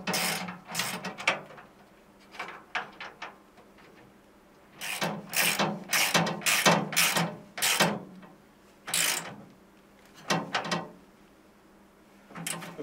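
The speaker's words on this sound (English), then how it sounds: "Now we'll get the front bolts tightened up." Ratchet wrench tightening the front bolts on a Costco Whalen 48-inch workbench during assembly, giving repeated bursts of clicking strokes in irregular groups, fairly close and clear with no talk.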